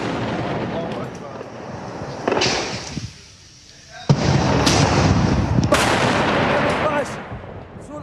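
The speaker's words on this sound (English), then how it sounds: "The shelling goes on all through the night." Artillery shelling pounds a building through the night, loud close blasts and rumbling booms with a brief lull before a sharp impact, and voices speak beneath the noise.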